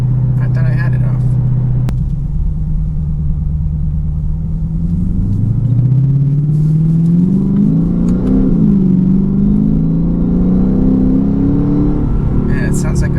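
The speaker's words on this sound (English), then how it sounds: "it sounds like a supercharger whine actually a little bit" Car engine droning close from inside the cabin while driving, with a steady low rumble rising in pitch as it accelerates and a faint whining tone on top; a voice talks briefly near the start.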